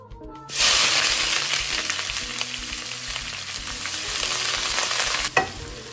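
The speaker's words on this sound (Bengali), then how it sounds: "আমার তেলটা গরম হয়ে গেছে। আমি এখন এতে দিয়ে দিচ্ছি পেঁয়াজ" Onions drop into very hot oil with a sudden loud burst of sizzling that settles into a dense, continuous frying hiss, with a spatula scrape near the end.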